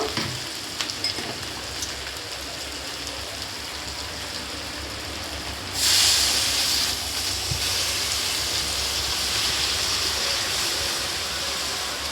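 Water is poured into a hot pan of young jackfruit cooked down with spices, giving a steady hissing sizzle that swells into a louder surge midway, then settles into a continuous bubbling hiss with no talking.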